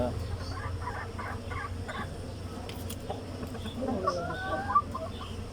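Native chickens clucking nearby on a farm, a few soft repeated clucks and a short rising call near the end, under someone talking.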